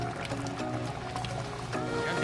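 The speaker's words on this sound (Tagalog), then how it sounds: "Ilagyan po natin ng konting tubig para hindi siya matuyo." A little water poured into simmering Kapampangan kaldereta stew, a soft liquid trickle and splash mixed with steady kitchen background and faint tonal music.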